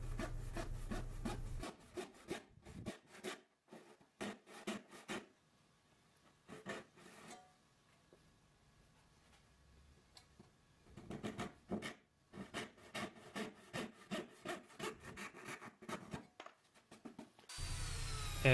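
Notches are cut into an oak vanity panel around the legs, with bursts of rhythmic, rasping saw strokes, close and clear, broken by a quiet pause midway before the cutting resumes.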